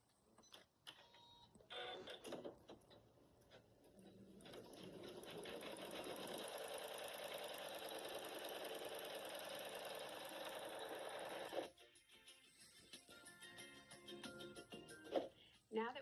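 A Janome Skyline S9 sewing machine embroidering butterflies on fabric makes a quiet, fast, steady mechanical whirr of needle strokes lasting several seconds, with brief quieter stretches before and after and a voice speaking.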